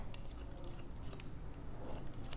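Steel scissors snip through a man's hair during a men's scissor-over-comb haircut, a quick series of crisp, close metallic cuts in an irregular rhythm, with no talking.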